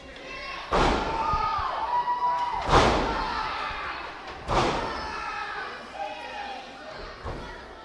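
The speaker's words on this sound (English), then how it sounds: "Billy the Kid's now driving that edge of the chair multiple times into Alexander's leg" Steel chair edge driven repeatedly into a wrestler's leg during a pro wrestling match, three loud metallic slams spaced a couple of seconds apart with crowd noise and a commentator talking over them.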